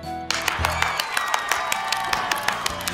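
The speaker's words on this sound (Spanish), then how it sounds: "Demos un aplauso a todas nuestras sombras chinescas." Applause for shadow puppets: a brief burst of steady, even clapping from a small group, close and moderately loud, following a short spoken phrase at the start.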